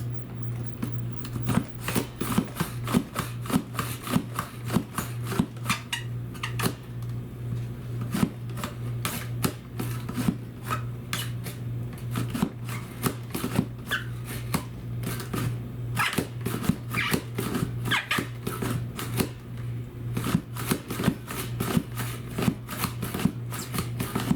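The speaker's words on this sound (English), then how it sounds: "Now I'm going to try the very thin cut for my jalapeno." A LIFEDOO vegetable cutter thinly slices a jalapeno with rapid, rhythmic clacking chops, a long quick series of crisp cuts close by over a low steady hum.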